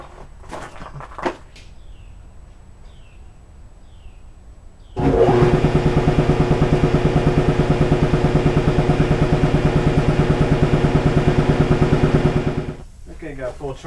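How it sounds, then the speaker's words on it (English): An air compressor recharging runs for about seven seconds as a loud, rapidly pulsing motor chug that starts abruptly and cuts off, after quieter clattering and handling noises near a computer being cleaned. "I'm going to have to recharge the compressor for this one."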